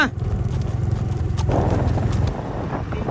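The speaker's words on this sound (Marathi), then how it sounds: "हा आमचा नवीन देसी घोडा" A desi horse walks with a steady, rhythmic clip-clop of hooves, close and clear, over a low background rumble.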